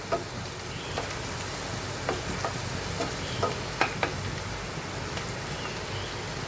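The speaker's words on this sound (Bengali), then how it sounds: "আমি পেঁয়াজ ভাজার সাথে কষিয়ে নিচ্ছি" Onion and green chili paste sizzling and frying in a pan for a hilsa fish curry, a constant hiss broken by a few sharp scraping stirs.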